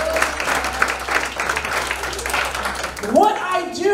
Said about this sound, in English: Let's give Luke a hand clap